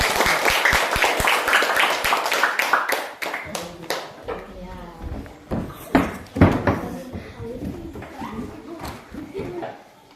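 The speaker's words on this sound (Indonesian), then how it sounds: "Ya, beri tepuk tangan dulu." A classroom of students claps after a group presentation, a dense burst of applause that thins into scattered claps over the next several seconds, with voices and chatter mixing in.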